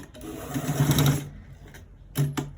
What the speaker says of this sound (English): now we are starting to stitch it on the 1/4 inch all the way to the end part